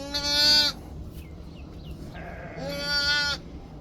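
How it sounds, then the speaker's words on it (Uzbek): Sheep on a farm give two loud, drawn-out bleats, close by and separated by a short pause, with no talking. "Mana bu yoqda boshqa qo'ylarimiz mana."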